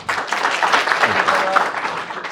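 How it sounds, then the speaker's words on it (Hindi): The audience at an Ambedkarite influencer meet in Nagpur breaks into a short burst of applause, dense close clapping that swells quickly, holds for about two seconds and then cuts off. "तालियां हो जाए।"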